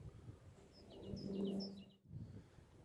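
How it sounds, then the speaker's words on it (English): Small birds sing in quick, high chirping bursts around the Old Sarum earthworks near Salisbury, Wiltshire, faint and somewhat distant over a low outdoor hum, no speech. "Bird song, lovely, lovely bird song."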